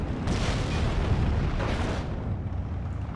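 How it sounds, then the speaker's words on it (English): Heavy booming mortar shell blasts in Steel Division 2, a rolling, rumbling barrage of deep explosions that runs close and loud, then tails off slightly at the end. "Alright, mortars are going in."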